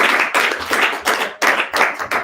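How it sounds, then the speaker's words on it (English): A small group of people clap at a red carpet magazine event, giving about six or seven loud, close bursts of claps with short gaps between them and no voices over it. "So let's clap for Dr. Sonia for my time."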